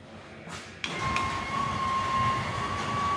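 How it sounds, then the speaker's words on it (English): A model train in a museum display at Portland Basin Museum starts up with a click, then runs with a steady mechanical whir and a thin sustained whine, close by and continuous. "You just set the train off."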